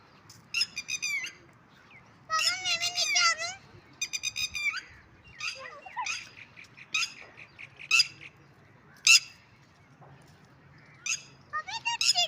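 A bird near its eggs in a garden squawks and chirps in repeated loud, harsh bursts close by, with faint background noise between calls.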